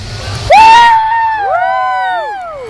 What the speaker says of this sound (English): I want to hear your screams, your support right now because you guys are amazing.